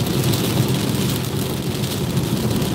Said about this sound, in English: The rain sounds like metal deadbolts hitting the vehicle.